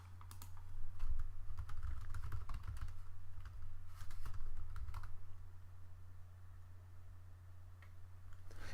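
Typing on a computer keyboard at a command line, a quiet run of quick key clicks in irregular bursts, busiest over the first five seconds and then sparser, with no talking.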